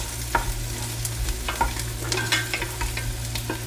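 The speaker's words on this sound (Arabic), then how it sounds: "هقلب البهارات شوية مع البصل عشان تطلع نكهتها" Spices stirred with onion in a hot pot for a white hashi (camel) kabsa, giving a close, steady sizzle with a few sharp scrapes and clinks of the spoon against the metal over a low background hum.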